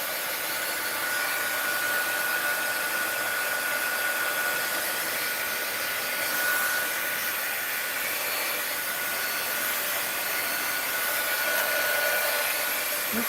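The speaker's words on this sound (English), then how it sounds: "It does with the heat gun that dries it from the underneath." Heat gun blowing steadily to dry a wet mixed-media art journal page, a continuous loud airy roar with a faint high whine, running unbroken throughout with no voices.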